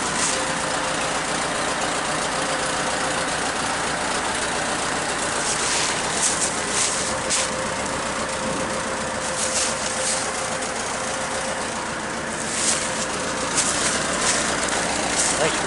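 A Ford 550 backhoe engine runs at a steady idle, a continuous mid-pitched diesel drone with occasional clanks, while people talk over it.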